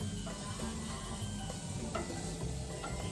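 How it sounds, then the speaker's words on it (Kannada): Paneer pieces fry in a hot pan with oil, a steady close sizzle and crackle that continues throughout, with faint occasional stirring clicks and no voices. "ನನ್ನ ಮಗಳು ಪನ್ನೀರೆಲ್ಲ ಕಟ್ ಮಾಡಿಬಿಟ್ಟು ರುಬ್ಕೊಂಡಿದ್ದಾಳೆ ನಾನು ನನ್ನ ಪುಟಾಣಿಗೆ ತಿನ್ಸ್ಬಿಟ್ಟು ಬರೋ ಅಷ್ಟೊತ್ತಿಗೆ ಇವಾಗ ಫ್ರೈ ಮಾಡ್ಕೊತಾ ಇದ್ದಾಳೆ"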